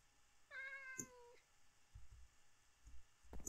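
A cat meows in Minecraft, one clear rising-falling meow near the start, followed by faint soft thumps and game sounds with no talking.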